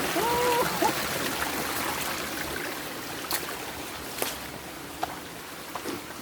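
A forest creek flows continuously, a steady mid-level babble of water under occasional footsteps and splashes from walkers wading along it. A brief whistle-like tone is heard near the start.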